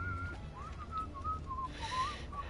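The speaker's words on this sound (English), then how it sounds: "don't know who this whistling is" A lone melodic whistle drifts through The Witcher 3, a soft tune of short rising and falling notes with no one speaking over it.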